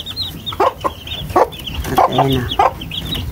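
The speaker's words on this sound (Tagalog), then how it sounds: "Malaki na din yung 3 kong sisiw." Imported Asil chicken chicks give several short, separate clucks and peeps close by, mixed with light rustling and a few quiet spoken words.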